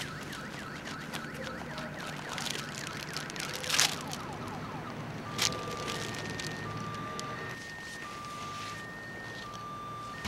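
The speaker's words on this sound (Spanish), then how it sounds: "Eso, las fucking alarmas de carro." A car alarm cycles through warbling, chirping electronic tones outdoors at moderate distance, steady across the whole stretch with a couple of sharper bursts partway through.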